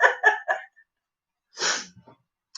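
A single sharp sneeze bursts out near the middle, preceded by a quick run of three breathy gasps or laughs and followed by a faint breath, close and fairly quiet in an otherwise silent room.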